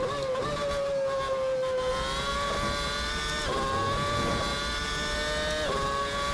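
A McLaren MP4/22 Formula One car's engine in a racing game, revving hard under full throttle through third gear with traction control cutting in, a loud, continuous high-pitched whine climbing and dipping across gear changes, with no talk.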